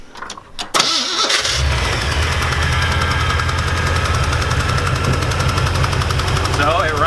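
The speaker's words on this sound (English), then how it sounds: "So it runs idle smooth." A Chevy TBI engine with a freshly rebuilt HEI distributor cranks and fires up, then settles into a loud, steady idle with a rapid even pulse, heard close by without talking.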